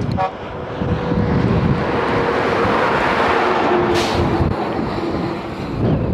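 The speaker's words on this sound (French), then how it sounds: "Il y a du vent." Steady strong wind roars into the microphone in an outdoor desert setting in Egypt, loud and continuous with a brief whoosh partway through; no talking.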